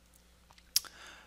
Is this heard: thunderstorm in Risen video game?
no